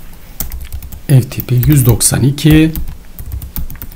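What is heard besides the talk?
typing on a computer keyboard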